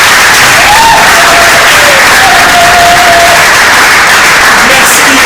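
A church audience fills the hall with loud, sustained applause and scattered cheers, dense clapping holding steady throughout while a voice briefly rises over it.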